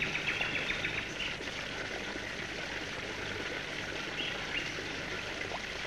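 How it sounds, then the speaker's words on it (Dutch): Water flowing in small streams from springs in hilly spring countryside, a soft continuous trickle and burble with faint bird chirps in the background, quiet and steady throughout. "Het water stroomt weg in smalle beekjes"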